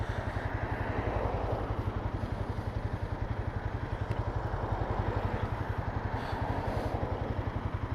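A motorcycle being ridden, its engine giving a steady, close, rumbling drone with a fast regular pulse and wind noise, continuous for the whole stretch.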